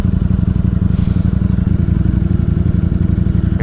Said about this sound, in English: Oh, that sound. Any V4 sound really, man, they sound so good.